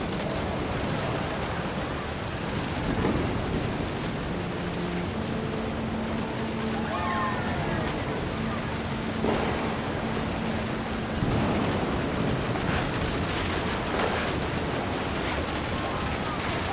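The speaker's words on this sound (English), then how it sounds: "The thunder sounded much too close and full of angry power." Heavy rain pours steadily as a thunderstorm rolls through in the narrative game What Remains of Edith Finch, a dense constant hiss with low rumbles swelling underneath, while a voice speaks over the storm.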